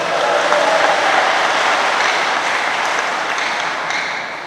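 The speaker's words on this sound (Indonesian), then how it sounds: "Coba tepuk tangannya." Audience of guests at a regional government scientific discussion event applauding, a steady dense wash of clapping that holds loud and evenly for a few seconds before easing slightly.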